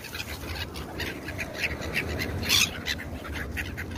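Flock of ducks squabbling noisily over food, a scatter of overlapping squawks and quacks rising and falling over steady background noise, moderately distant with no talking.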